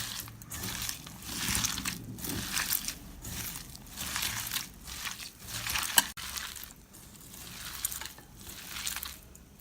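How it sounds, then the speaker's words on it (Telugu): Sliced onions are squeezed and mixed by hand with chili powder for pakoda, a close, wet crunching and squishing in repeated rhythmic bursts about once a second. "ఒక 1/2 టీ స్పూన్ కారం కూడా వేసుకొని ఉల్లిపాయ ముక్కలకి బాగా కలిసేలాగా గట్టిగా కలపండి"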